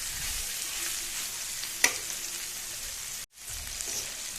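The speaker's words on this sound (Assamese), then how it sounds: "মই ইয়াত গৰম পানী দি দিছোঁ।" Hot water goes into a sizzling pork masala gravy with bamboo shoot, bringing a steady close bubbling sizzle, a sharp click partway through and a brief cut-out of sound before the simmering hiss resumes.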